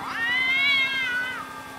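A cat in the Grand Theft Auto V video game lets out a single drawn-out, rising-then-falling meow, loud and close, with no talking over it.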